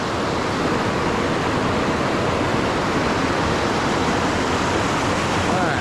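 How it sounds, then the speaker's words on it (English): Runoff water rushes down into a river swollen with very high water near Indian Flats Falls, making a loud, continuous, broadband roar that stays steady from start to finish. "flowing into the river itself. So that's runoff going down through here."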